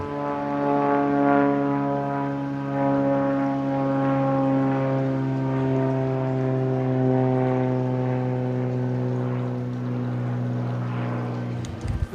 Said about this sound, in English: The amount of noise here with these planes.